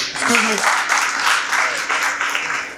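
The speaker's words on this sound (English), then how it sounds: "A huge round of applause." Crowd applause fills the room at a startup pitch event, a steady wash of many hands clapping with a few voices mixed in underneath.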